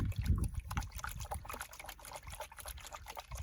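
Water and gravel swish back and forth in a gold pan, giving choppy, rhythmic sloshes and trickles that sound close and fairly soft.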